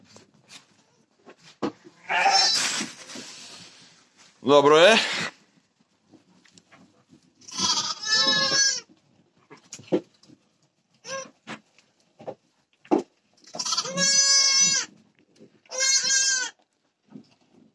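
Sheep bleating on a village farm, several loud, drawn-out bleats spaced apart with soft rustling and brief low talk between them.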